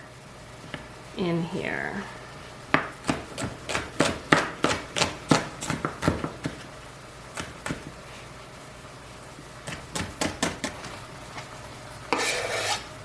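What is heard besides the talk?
knife chopping shallots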